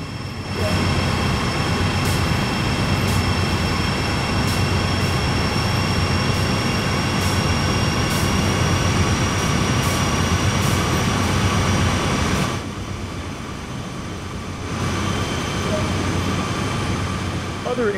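A train's exterior in the Train Sim World 2 video game gives a steady mechanical drone with high whining tones, loud and constant, dropping briefly before resuming toward the end.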